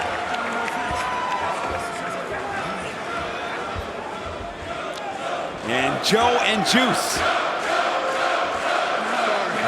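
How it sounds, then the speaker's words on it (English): Wrestling arena crowd roaring and rallying behind Samoa Joe in a bout against Juice Robinson, a steady dense cheer that swells louder midway, with a commentator talking over it throughout. "The crowd rallying behind the ROH Hall of Famer"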